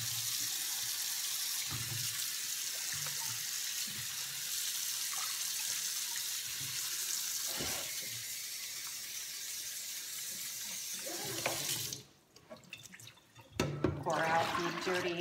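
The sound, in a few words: filling a bowl with cold tap water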